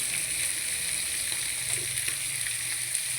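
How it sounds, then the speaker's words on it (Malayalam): Sardines sizzle steadily in hot oil in a pan, a close, dense, continuous frying hiss with faint crackles throughout and no voices. "മത്തി പൊരിക്കാൻ വെക്കുന്നത്. നല്ലവണ്ണം പൊരിഞ്ഞു വരണം."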